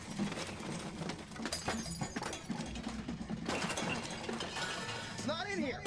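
Objects smashing and breaking in a video game, a series of clinking, shattering crashes at irregular intervals, with a voice heard briefly near the end.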